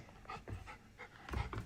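A dog pants close by in quick, rhythmic breaths, several short huffs in a row, with no voices.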